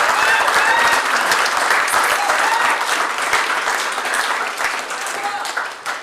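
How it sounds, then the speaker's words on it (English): An audience at a board meeting breaks into loud, sustained applause that fills the room and slowly tapers off toward the end. "Let's give a big round of applause for that"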